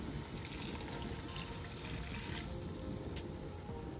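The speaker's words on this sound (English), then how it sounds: "now I'm going to be adding 1 full cup of boiled water." A steady stream of boiled water pours continuously into a pot, a close, even rushing sound with no talking.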